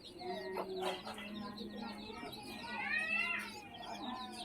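Chickens with young chicks cluck and chirp nearby in scattered short calls, with some higher peeps mixed in, fairly quiet overall.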